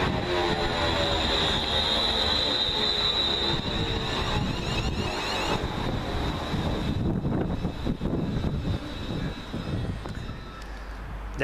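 A London Midland Class 350 electric multiple unit train on the Liverpool Lime Street to Birmingham New Street service roars past at Coseley station, a loud sustained rumble with high whining tones that fades slightly as the train moves away.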